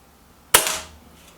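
A single sharp crack from a Venari .22 air rifle, a sub-12 ft-lb gun, firing a slug at a target, heard close and alone with a brief fading tail.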